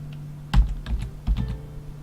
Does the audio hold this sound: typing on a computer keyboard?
yes